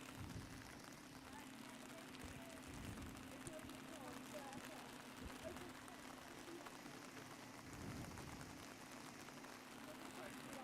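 Steady rain falls across an outdoor race meeting, a continuous soft hiss with a low rumble underneath, holding evenly throughout.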